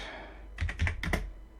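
A short burst of keystrokes on a computer keyboard while typing a code comment, several quick clicky taps in an uneven rhythm, close and fairly quiet, with no talking.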